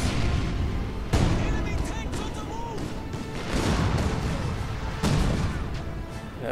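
Panzerwerfer rocket artillery fires in a strategy war game, with two sharp booming launches standing out from continuous battle noise and a murky layer of voices.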